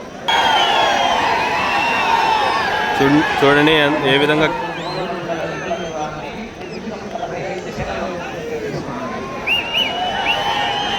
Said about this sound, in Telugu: ఎంతో ఆలాహలంగా జనాలు కేకలేస్తున్నారండి ఈ జతను వీక్షిస్తూ